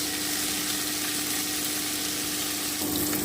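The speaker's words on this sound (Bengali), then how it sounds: "এবারে আমি কপি আর আলুটা ভেজে নিচ্ছি হালকা ব্রাউন করে ভেজে নেবো" Cauliflower and potato pieces browning in a pan make a loud, continuous, even sizzle close by, with no talk over it.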